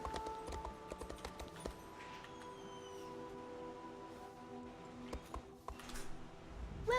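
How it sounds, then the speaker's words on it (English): A horse in the video game Templar is heard as faint hoof clip-clops and small ticks against a quiet ambient backdrop, over a low steady hum. "Go ahead and feed the horse."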